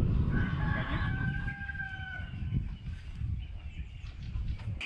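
Broiler chickens inside a chicken coop, a rooster crowing in the foreground over a dense, continuous background of clucking and low farmyard rumble.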